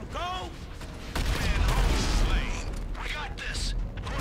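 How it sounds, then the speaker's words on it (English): Fireworks from a fire launcher in GTA 5, a sustained crackling burst of booms and pops with whistling streaks, mixed with a voice talking. "Fireworks?"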